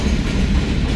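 A train rumbles and clatters at New Jersey's Metro Park station, a steady loud low-heavy roar filling the whole moment with no voices.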